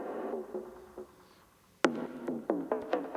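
A loop of Syncussion SY-1 drum machine samples, a sustained electronic tone followed by a run of sharp synthetic percussion hits with pitched decays, close and moderately loud.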